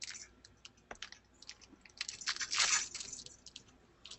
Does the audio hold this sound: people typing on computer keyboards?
yes